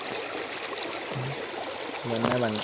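Water running and splashing while a bicycle is washed, a steady trickling stream close by, with a brief voice cutting in near the end.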